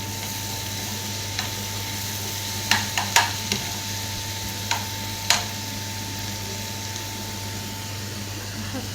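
Garlic frying in Egyptian country ghee gives a low, steady sizzle with a faint hum underneath, punctuated by a few sharp clinks of a spoon against the pan near the middle, close and without speech.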